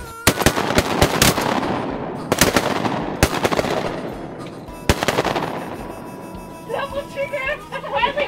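Shotguns fired at ducks during a women's hunt in flooded beaver-dam timber: several sharp blasts in quick bursts, some overlapping, echoing among trees, with excited calls from hunters and a short flurry of duck quacking near the end.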